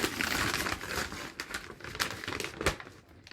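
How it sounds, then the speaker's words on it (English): A CASETiFY phone case box is unwrapped up close, its paper and packaging giving off a run of crinkling, tearing rustles with sharper bursts scattered through the few seconds. "I'll go ahead and unwrap this beautiful box"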